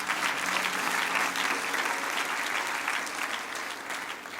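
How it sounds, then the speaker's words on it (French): A church audience claps and applauds for Marc-Olivier during a French-language healing service, steady dense clapping from a crowd lasting several seconds, fairly distant and even in loudness. "On peut acclamer pour Marc-Olivier."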